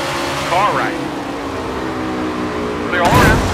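Race car engines roar steadily in NASCAR 21: Ignition at the Bristol short track, a loud continuous drone with rising tones as cars pass, heard under a voice talking.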